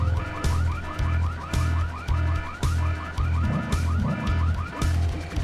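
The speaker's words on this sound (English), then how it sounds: "Well, who set off the alarm, Floyd?" Alarm going off in the Full Throttle Remastered video game on PS4, a loud repeating electronic warble cycling rhythmically over a pulsing low beat, steady throughout.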